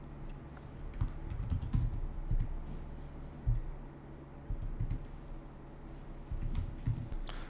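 Continuous keyboard typing, soft irregular key clicks in bursts, close by and fairly quiet, with no talking.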